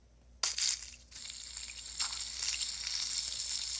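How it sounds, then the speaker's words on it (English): Fish sizzles in a frying pan in a video game cooking scene, a steady hissing fry that starts abruptly, swells in bursts and keeps crackling at moderate level with no talking. "let's fry the fish"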